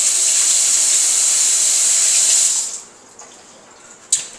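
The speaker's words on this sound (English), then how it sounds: "I'm gonna wash my hand for a sec." Kitchen tap running at full flow while hands are rinsed under it, a steady loud hissing splash for a couple of seconds before the water shuts off, leaving quiet room tone and a small clunk.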